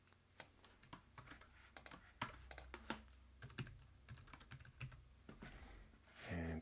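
Close-up computer keyboard typing, a quick irregular run of soft key taps as card details are entered, faint and alone with no voices.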